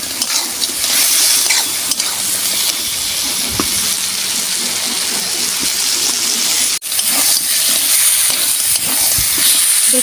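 Crab jhal masala sizzles and hisses steadily in a hot pan as it is stirred and sautéed, a loud, continuous frying roar with occasional scraping, alone without talk.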